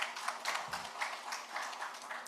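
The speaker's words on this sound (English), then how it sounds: "Another round of applause for His Excellency." A conference audience marking ECOWAS at 50 gives a round of applause to a dignitary, a soft, steady patter of many hands heard from a distance, with no talking over it.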